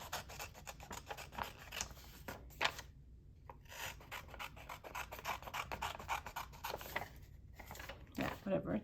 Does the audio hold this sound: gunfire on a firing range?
no